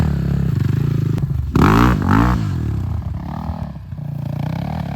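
An enduro motorcycle engine runs steadily up close on a trip to a canyon, revving harder for a couple of seconds midway before settling back to an even, throaty drone.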